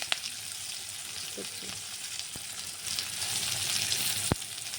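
Whole garlic cloves frying in hot oil for a chicken fry, giving a steady, soft sizzle heard up close with a few sharp clicks, fairly quiet and without speech.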